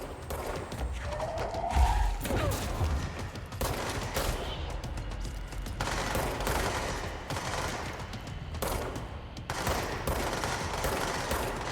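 Gunfire in the video game Control, repeated bursts of rapid shots with sharp cracks and thuds spread over a busy, dense mix, fairly loud and continuous.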